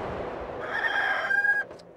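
A rooster crows once at moderate distance, a rising strained call that holds a sustained high note before it breaks off, heard alone without talk.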